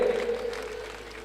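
Applause from an audience at a Leuva Patel community gathering in Bangalore honouring young women, a dense, steady patter of many hands clapping at moderate loudness throughout, with a faint hum beneath.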